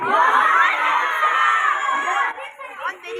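Cadets at an academy seminar shout and cheer together as a loud, sustained crowd roar that breaks into scattered individual yells toward the end.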